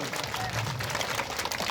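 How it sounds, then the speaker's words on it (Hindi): A village crowd at a rural religious gathering claps in a brief, dense burst of applause, close and fairly loud, with murmuring voices mixed in. "तो आज दुनिया के लिए भी जोरदार तालियां बजाकर स्वागत करो।"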